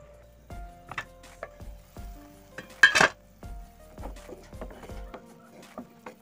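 Fish curry with spices bubbles and sizzles in a pot on a high flame, giving off soft, scattered crackles. Utensil clinks and taps sound at intervals, and one brief burst of louder spitting stands out. Nobody speaks.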